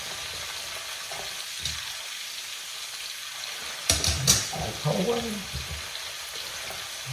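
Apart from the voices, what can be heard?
chanterelle mushrooms frying in a pan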